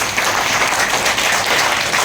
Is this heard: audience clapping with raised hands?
yes